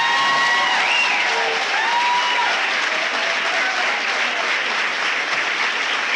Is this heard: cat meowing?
no